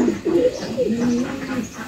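Pigeon cooing from a loft of paired pigeons, a soft rolling coo repeating through the moment at close range, with a faint voice in the background.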